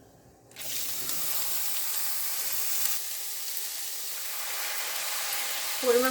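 Paste of ground lentils, ginger and onion with turmeric and salt hitting hot ghee, a quiet start giving way to a sudden steady hiss that holds evenly, ending in a brief clatter.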